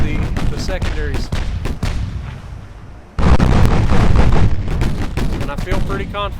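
A battleship's secondary guns in Ultimate Admiral Dreadnoughts fire as rapid, booming reports layered over a constant rumbling din, growing denser and louder midway through, with a voice talking over the barrage.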